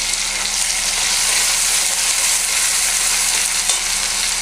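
Ginger paste and spices fry with softened tomato in a pan for a cabbage and hilsa fish head dish, giving a loud, steady, continuous sizzle with no talking.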